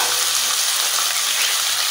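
Sofrito and onion hit a hot pan and fry with a loud, dense, unbroken hiss that holds even throughout.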